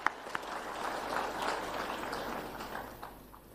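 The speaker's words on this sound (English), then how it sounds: "I think a hand of applause for our host." An audience at an Africa Coffee Week exhibition event applauds the host country, a fairly faint, steady patter of clapping that swells slightly in the middle and tapers off.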